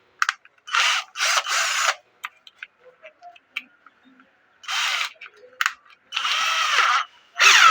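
A new 20V cordless drill drives a screw in several short bursts, each a loud close whir of a few tenths of a second up to about a second. Quiet gaps with faint clicks and handling noises separate the bursts.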